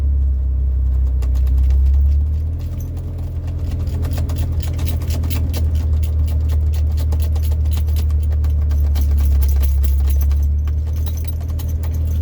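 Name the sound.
1998 Jeep Cherokee XJ engine running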